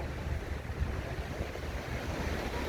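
Seaside waves washing on the shore with a steady breeze on a sunny autumn day, a continuous broad rush of surf and wind with no talking.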